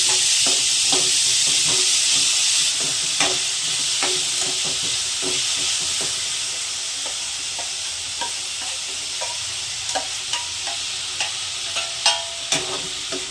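Chopped green tomatoes and garlic sauté in a pan under a strong steady sizzle, with repeated spoon scrapes and taps over it, the stirring knocks growing more distinct near the end.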